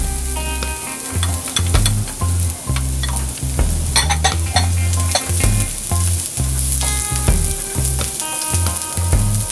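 Loud, steady sizzling of garlic and onion frying in a pan, with intermittent stirring and scraping sounds; no voices.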